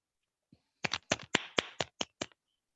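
At a Toastmasters club meeting in Kolkata, roughly eight sharp, close claps ring out in a quick, uneven burst from one or a few people, in an otherwise quiet room.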